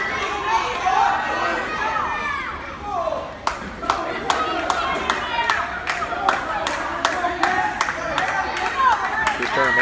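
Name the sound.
wrestling crowd yelling and clapping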